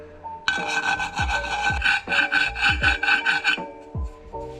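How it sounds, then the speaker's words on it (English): A hand file rasping over a go-kart axle to smooth away screw marks, a close, steady series of harsh back-and-forth strokes, loud and rhythmic with no voices. "So just take your file, get the axle and just go to work."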